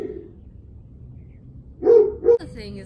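A dog barks twice in quick succession, fairly close, after a few seconds of low background noise.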